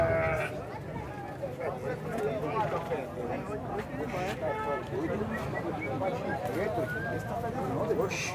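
Goats bleat among sheep and other livestock at an outdoor cattle fair in Puxinanã, Paraíba, with calls rising repeatedly over steady crowd chatter and nearby talk.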